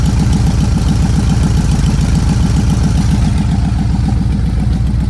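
A VW T25 high-top campervan engine idles steadily and loudly up close, its low, even pulsing chugging on without a break for the whole stretch, with light mechanical clatter riding on top.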